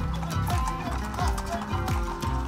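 Horses clip-clop through busy Marrakech street traffic, their hoofbeats steady and close amid a dense, continuous din of mixed traffic and voices.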